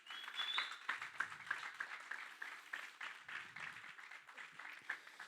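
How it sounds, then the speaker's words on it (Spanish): Church congregation applauding after a preacher's call to praise, a dense, steady clapping wash lasting several seconds at moderate distance, with no talk over it. "¿Cuánto le dan un aplauso al Señor por eso?"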